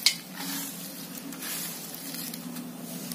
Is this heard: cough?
no